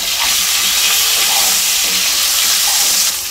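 Pieces of cut potato drop into hot mustard oil with a pinch of turmeric in a wok, giving a loud, dense, continuous frying sizzle close by with no talking.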